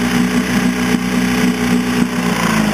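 Small engine idling roughly and unevenly, barely staying running, with a steady low drone and faint periodic stumbles; close and loud, no talking.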